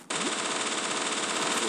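Rapid automatic gunfire in a dinosaur video game starts abruptly and roars on as a loud, dense, continuous burst.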